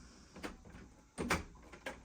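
A UPVC French door lock is unlocked with a few short mechanical clunks and clicks, close and fairly quiet, the loudest a sharp rattling clack in the middle.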